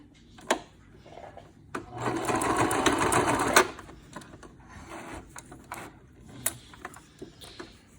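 A sewing machine stitches a half-inch seam across the top of a fabric mask, running in one steady burst for about two seconds between short clicks and handling noises nearby.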